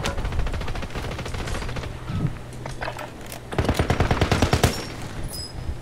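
Rapid bursts of automatic gunfire crackle continuously, with a dense cluster of sharp shots near the end, loud and close.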